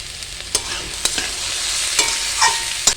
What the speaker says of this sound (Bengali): আমি ডাঁটা সমেত ভেজে দিচ্ছি